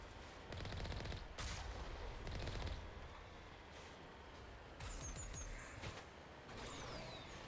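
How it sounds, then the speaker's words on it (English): Rapid bursts of machine gun fire in the Mass Effect video game, a few short volleys at low level with a pause between them, plus whining mechanical sounds. "Machine gun."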